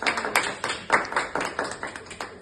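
Students in a classroom clap together in a quiet, steady rhythm of separate claps, fairly soft and close, with no other sound standing out.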